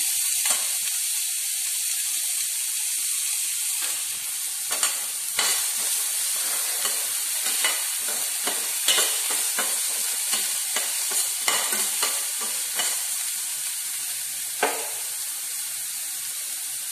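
Carrots stir-frying in a hot pan for paneer fried rice, a steady close sizzle with repeated scraping stirs of the spatula throughout, no voices.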